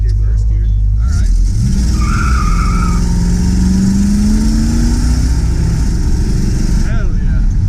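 Project truck accelerating hard in first gear, engine roaring loud and close with pitch climbing steadily, tire spin adding a rough edge, with a voice also heard over the engine.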